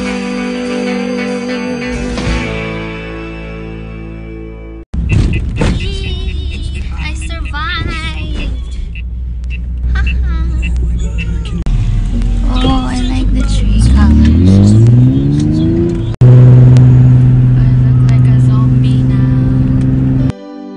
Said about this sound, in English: he came to the airport to pick me up with a sports car